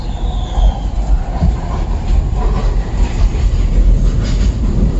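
A SEPTA Market-Frankford Line train roars past near Berks Station, a loud, close, continuous rumble of wheels on rail with rhythmic clatter and a faint squeal, with no talking.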